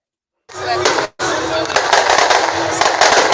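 Fireworks display going off in a neighborhood, heard as dense crackling bursts and pops that start abruptly, pause briefly, then continue loud and continuous through the rest of the moment.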